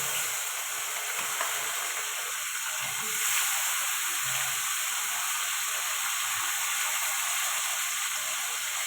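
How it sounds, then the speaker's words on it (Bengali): Pieces of bhola fish fry in hot oil in a wok, giving a loud, steady sizzle that stays even and close throughout, with no talk. "তেলটা গরম হয়ে গেছে, এবার মাছগুলো দিয়ে দেবো।"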